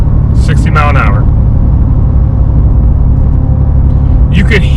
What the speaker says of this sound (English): Let me get to a point where I could let off throttle so you can hear just tires.